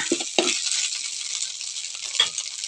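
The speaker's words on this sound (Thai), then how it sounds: "ผัดเส้นขนมจีนนะคะ" Khanom jeen rice noodles sizzle steadily in a hot pan, with a few soft scrapes as they are stir-fried close by.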